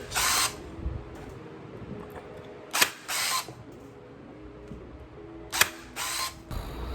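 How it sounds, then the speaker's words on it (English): Staple gun driving staples along the bottom edge of taut upholstery fabric on a modern bench, several sharp snapping shots spaced a second or two apart, close and loud over a quiet room. "I just pulled that there so that I can keep it taut while I throw staples here along the bottom edge"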